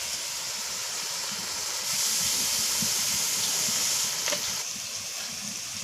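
Spice paste with a pinch of turmeric sizzles and fries in a pan while being stirred, a steady hiss running throughout and swelling louder partway through, with faint clicks of the spoon against the pan.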